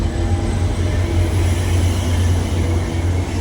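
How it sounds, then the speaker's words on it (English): A VIA Rail Northern Quebec passenger train pulls away from Sauvé Station toward Montreal, giving a loud, steady close-up rumble of rolling wheels and engine drone that holds without breaks. "There it goes, Miles, the Northern Quebec train. Leaving Sauvé Station, onwards to Montreal Central Station."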